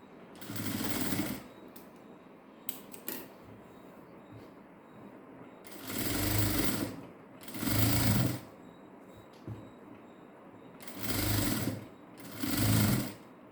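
A sewing machine stitches a blouse shoulder seam in four or five loud, close bursts separated by quieter gaps with light fabric handling.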